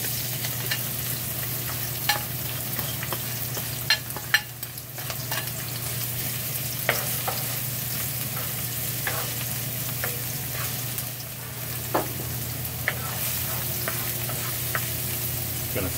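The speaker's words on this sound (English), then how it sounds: "the pan is pretty hot right now, so we're gonna put in the garlic and the green onions" Garlic and green onions frying in a very hot pan, a loud, constant sizzle with scattered crackles and spatula stirring sounds, heard up close and without voices.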